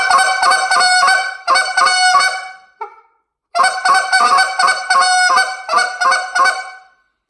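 Rapid bursts of nasal goose honks from a game call, two rhythmic series separated by a short pause, loud and close.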